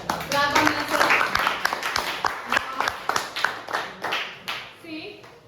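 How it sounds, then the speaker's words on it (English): Schoolboys in a classroom at a boys' school clap for themselves, a dense burst of near, lively clapping that thins into scattered claps, with children's voices heard underneath. "Clap. Clap on yourself."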